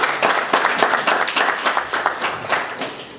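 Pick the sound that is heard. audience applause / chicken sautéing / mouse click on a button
audience applause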